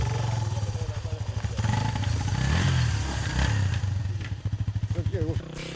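A motorcycle ridden by a young woman idles and revs at the start line of the "Medved Shatun" motor rally, its engine throbbing steadily and loudly throughout with a brief rise in pitch midway; a voice talks over it.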